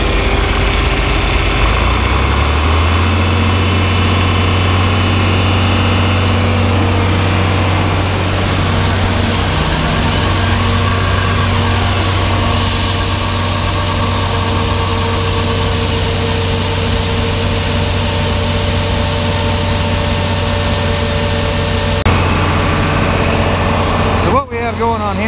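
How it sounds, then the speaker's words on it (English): A grain auger for unloading wet corn on an Iowa farm, spinning up into a loud, steady mechanical drone with a deep engine hum beneath, continuous throughout. "First, get the auger running."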